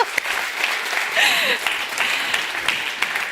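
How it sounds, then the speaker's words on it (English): An audience at a conference on food sovereignty claps together in a steady burst of applause lasting a few seconds, filling the room while a voice briefly speaks over it. "One round of applause."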